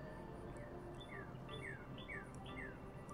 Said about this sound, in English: But if you hear birds and wind, that's because I'm outside